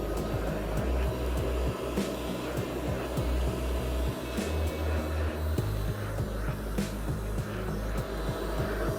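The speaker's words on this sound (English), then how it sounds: "We're going to start with the vacuum only." Kärcher Puzzi 10/1 carpet extractor running on vacuum suction alone, a loud steady motor drone with a constant airy whoosh and faint irregular low thumps, continuous throughout with no talking.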